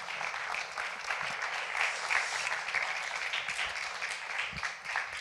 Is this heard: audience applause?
yes